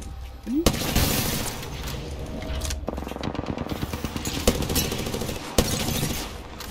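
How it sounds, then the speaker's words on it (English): Gunfire in the battle royale shooter Apex Legends, close and loud, with rapid bursts and rattling volleys punctuated by sharp single cracks across several seconds. "I'm shooting, hang on."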